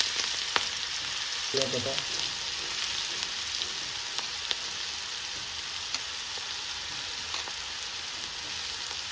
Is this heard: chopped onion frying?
yes